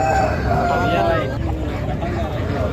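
At a Saturday aseel market, a rooster crows in a drawn-out call against a busy background of people talking and market noise.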